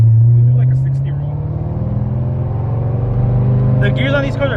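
A V8 car accelerating hard from a 60 mph roll gives a loud, steady engine drone with road noise from inside the cabin, and a voice briefly cuts in near the end.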